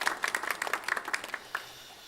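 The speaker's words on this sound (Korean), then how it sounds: "우리 박수로 보답하겠습니다" Brief scattered hand clapping from a church congregation during a Sunday worship service, a short ragged burst of applause that thins out and stops within about two seconds.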